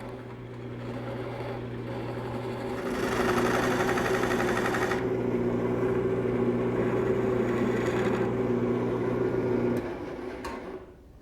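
A wood lathe hums steadily while a skew chisel cuts the spinning workpiece to clean up a shoulder. The pitch of the cut rises and changes as the blade engages, then the motor winds down near the end.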